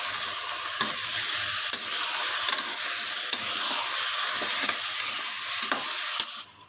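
Mutton pieces stirred into masala in a frying pan make a loud continuous sizzle and hiss, with occasional scraping clicks of the spoon against the pan, steady and close throughout.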